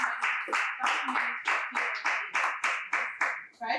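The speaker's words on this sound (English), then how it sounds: "can we give a round of applause?" Rhythmic clapping at a mentorship seminar, about a dozen evenly spaced, sharp claps in a steady beat, close and fairly loud, with little voice around them.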